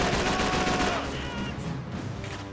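Dense automatic gunfire in the PS2 shooter Call of Duty 3, a steady rattling stream of shots that slowly fades a little with a murky battle din underneath. No voices.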